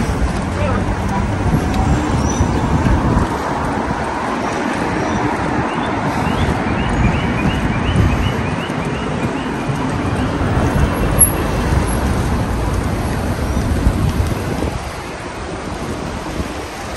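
Street traffic in Shanghai near Joy City rolls past as a continuous loud wash of engines, tyres and wind, with a steady broadband roar from close to the road.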